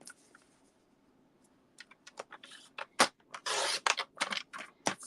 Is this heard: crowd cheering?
no